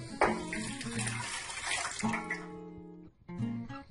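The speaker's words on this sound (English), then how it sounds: "So I'm just going to pour the water in." Warm water for activating yeast pours and splashes into a bowl for fruit bread dough, a steady gurgling stream that briefly pauses and resumes, close and fairly loud.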